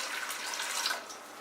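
Four cups of warm water poured into a Bosch mixer bowl, a steady close splashing rush lasting just over a second before easing off slightly.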